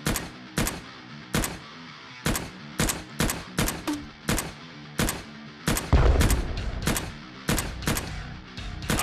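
Gunfire in the video game Cactus Cowboy Plants At War: a rapid series of about twenty sharp, loud shots in uneven bursts, close and punchy, with a heavier booming impact near the end, no talking.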